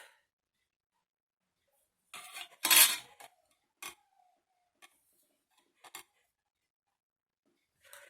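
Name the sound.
knife cutting two pieces at once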